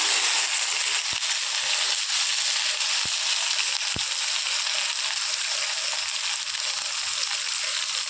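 Onions fry in oil with dried red chilies and curry leaves, giving a loud, continuous close sizzle with a few sharp pops scattered through it, and no voices.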